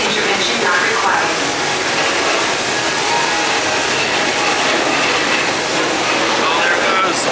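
A locomotive rumbles past on Mr. Toad's Wild Ride at Walt Disney World, a loud, steady wash of dense mechanical roar and rattle that stays close throughout, with no clear break or fade.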